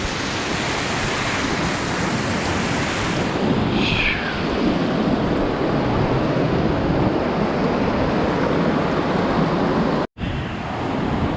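Feather River in Plumas County running about six feet above its normal level, a loud steady broadband rush of churning water that fills the whole stretch with no voices.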